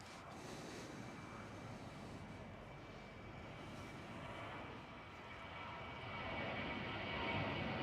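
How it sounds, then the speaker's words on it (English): Engine noise from a KLM Boeing 737 being pushed back at Amsterdam Schiphol forms a continuous low rumble with a faint steady whine, swelling slightly louder in the final seconds, and no voices. "That's KLM 737, by the way"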